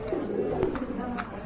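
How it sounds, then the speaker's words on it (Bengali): Large pigeons kept in pairs for sale coo softly in a few low, rolling calls close by, with someone talking over them. "এখানে কিন্তু আরেক জোড়া কবুতর আছে, অনেক বড় সাইজের কবুতর দেখার মতো"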